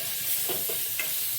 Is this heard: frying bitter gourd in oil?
yes